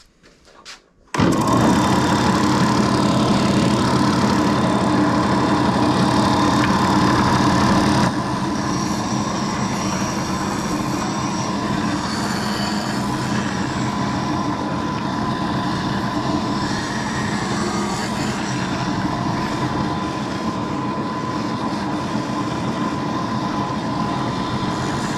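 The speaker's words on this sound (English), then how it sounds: "Now I'm gonna go over to the sander and see if I can clean it up a little bit." Power sander smoothing a wooden fillet board, a loud continuous roaring whir that starts abruptly after a moment of quiet and runs steadily, with a slight drop in loudness partway through.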